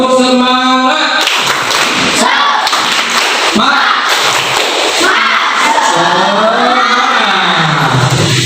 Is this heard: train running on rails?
no